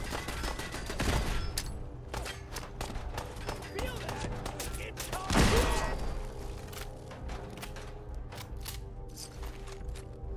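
Turret gunfire in Fallout 4 crackles as scattered sharp shots and bursts, with two louder clusters early and midway, amid ongoing game mechanisms and effects.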